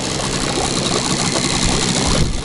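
A Mikatsu 9.8 outboard motor on a small boat runs steadily at idle, a loud, close, continuous engine drone with no talking.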